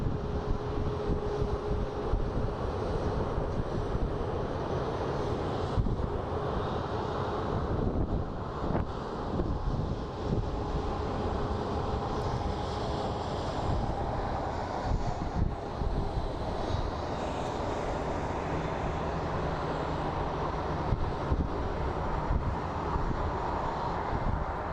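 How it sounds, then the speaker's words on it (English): A Southwest airliner inbound from El Paso flying in to land at Phoenix Sky Harbor, its steady engine roar filling the whole stretch with heavy wind buffeting the microphone throughout. "we're going to be getting a Southwest 1441 it's coming in from El Paso"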